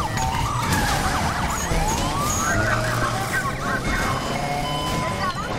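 A police siren in the Need for Speed Unbound racing game wails in rising and falling sweeps over a dense bed of engine and road noise, loud and continuous.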